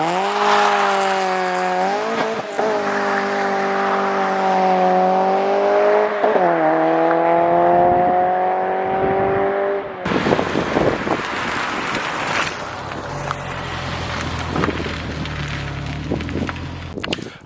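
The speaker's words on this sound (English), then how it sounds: "as you saw, I barely went anywhere off the launch because it was just spinning in this gravel area" A B20B-swapped Honda EK hatchback launches hard, its engine screaming at high revs as the wheels spin in gravel, then the revs drop and loose stones crunch and rattle under continued roar; loud, close, with wind buffeting.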